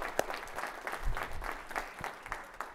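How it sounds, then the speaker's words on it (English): Scattered, thin clapping from a small audience honoring graduates at a boot camp alumni networking event, faint and sparse, with individual claps rising and falling over a few seconds. "round of applause for everyone that graduated"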